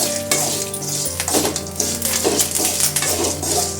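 Spices roast and sizzle in a hot pan for vatha kuzhambu, a steady frying hiss with a spoon stirring and scraping against the metal, close and fairly loud.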